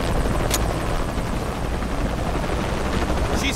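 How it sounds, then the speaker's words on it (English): A helicopter from the video game Shadow of the Tomb Raider thumps loudly and continuously at close range, its rotor drone filling the scene, with brief sharp bursts near the start and end. "Always hated helicopters."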